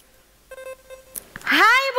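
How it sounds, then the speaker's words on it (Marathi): A mobile phone rings with a short electronic tone pattern, then a voice responds over it. "आईचा फोन आहे."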